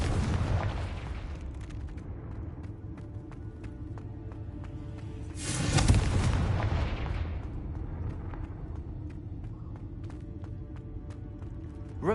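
A Confringo blasting spell detonates in a Harry Potter video game, a sudden loud burst rising out of a low rumbling ambience and decaying over a couple of seconds, with no talk over it.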